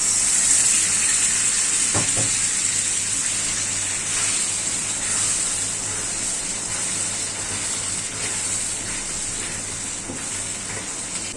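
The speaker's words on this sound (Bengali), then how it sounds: "দিয়ে দিব পানি।" Water poured into a pan of meat being sautéed with green chili and nut paste, a steady gushing, hissing wash running through most of the stretch, close and fairly loud with a couple of sharp clinks early on.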